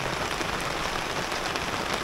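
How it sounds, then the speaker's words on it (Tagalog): Heavy rain pours steadily on a campsite, a dense, constant hiss of drops drumming close by with no breaks and no voices. "mukhang hindi hihinto yung ulan eh"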